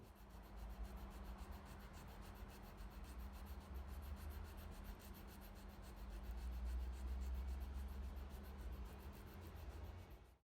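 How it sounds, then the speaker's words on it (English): A knife scraping an oboe reed blank, a soft continuous rasping with a fine rapid texture, close and faint, steady for about ten seconds before stopping abruptly. "After I've done a number of scrapes, I'll do approximately the same amount to the other side."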